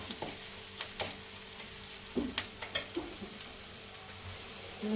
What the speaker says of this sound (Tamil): உப்பு போட்டு வதக்கியாச்சு